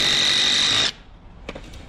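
A power drill drives a screw into a wooden sleeper during a pond build, giving a steady high whine for just under a second before it stops abruptly, followed by faint clicks.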